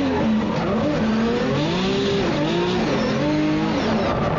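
Ryan Tuerck's drift car howls along a mountain road, its engine revving up and down as the tires squeal in long wavering screeches, loud and close throughout.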